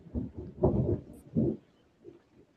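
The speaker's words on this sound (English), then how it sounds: "Can y'all hear the thunder?" Distant thunder rumbles through an online call, arriving as several low, rolling bursts that swell and fade over a couple of seconds, with no talking over them.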